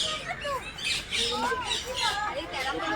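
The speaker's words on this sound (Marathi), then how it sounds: "हा बघा पॅरोट." Parrots at a zoo in Surat squawk and screech in repeated harsh calls close by, layered over a noisy enclosure din with people talking in the background.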